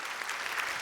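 A church congregation claps in thanks, a dense, even burst of applause filling the short moment with no voices over it.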